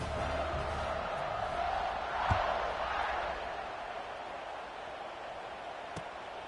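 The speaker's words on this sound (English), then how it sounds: "this crowd is buzzing after that last score" In the video game College Football 26, a stadium crowd gives off a constant, broad roar that swells briefly and then settles into a steady hum.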